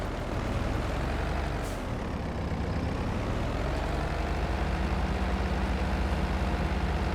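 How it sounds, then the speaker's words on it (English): Diesel New Holland tractor from a mini agriculture equipment mod pack in Farming Simulator 22, its engine a steady, loud low rumble that holds evenly throughout with no voices over it. "Here we can hear the diesel variant of the NewHolland methane-powered vehicle."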